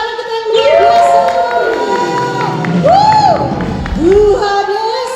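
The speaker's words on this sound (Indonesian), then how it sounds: "Sorak-sorai buat anak kita yang luar biasa." Congregation at an online church service cheering and whooping loudly for a child, a dense crowd roar with shouts and some clapping that holds for several seconds, close and continuous.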